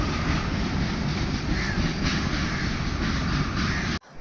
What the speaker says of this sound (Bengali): সাইডে ট্রেন যাচ্ছে